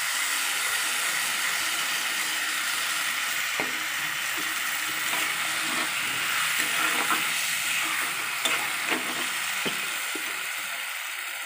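Poppy seed paste frying in a pan, giving a steady loud hissing sizzle with occasional small pops and stirring scrapes, close up and continuous, with no talking.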